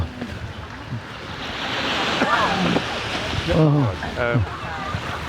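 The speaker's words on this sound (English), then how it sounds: "Now the waves are not that high." Ocean waves wash onto the shore on Réunion island, a steady broad rush of surf with wind noise, while people talk over it nearby.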